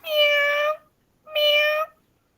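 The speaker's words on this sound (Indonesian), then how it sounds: "nanti ada suara kucing" A cat meows twice, each call loud and clear with a short pause between, heard alone as a sound effect in interactive classroom learning material.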